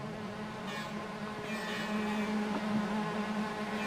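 Clio Cup race cars sit on the grid at Donington Park before a race start, their engines making a steady, buzzing drone that swells slightly partway through. No one talks over it.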